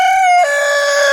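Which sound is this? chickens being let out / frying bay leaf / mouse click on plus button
chickens being let out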